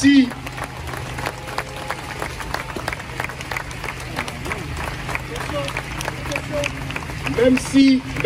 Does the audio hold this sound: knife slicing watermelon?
no